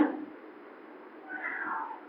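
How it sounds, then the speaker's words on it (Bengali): A cat meows twice nearby, a short cry followed by a longer, drawn-out one, fairly soft against a quiet background. "এই যে বিড়াল ডাকতেছে তাও শুনতে পাবো"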